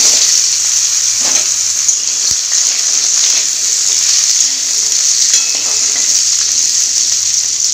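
Boiled jackfruit seeds fry in hot oil in a karahi, giving a loud, close, continuous sizzle with occasional stirring scrapes and one sharp knock partway through.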